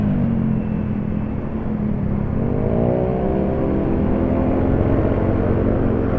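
A Yamaha MotoGP motorcycle engine rumbles steadily, then revs up with a rising whine before settling into a loud, continuous drone.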